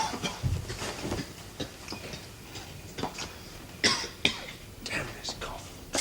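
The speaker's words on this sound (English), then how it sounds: "Damn this cough." Several harsh coughs and throat clearings from a man in a tunnel, close and raspy, scattered among murmured voices and faint rumbling in the background.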